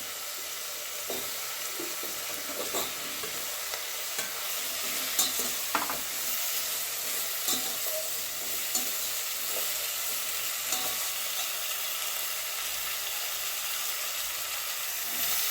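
Vegetables for kalyana sambar are sautéed in a pan with constant soft sizzling and repeated stirring scrapes of a spoon, close and steady, no speech.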